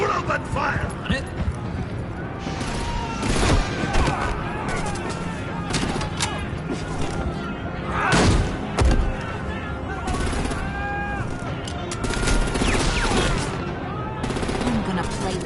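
Gunfire in the Batman Telltale Series game: repeated bursts of automatic weapons and scattered single shots crack close and loud over a steady backdrop, with voices shouting in between.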